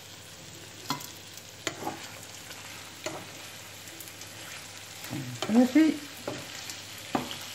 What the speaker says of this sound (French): Laisser cuire en remuant de temps en temps jusqu'à ce que ça doré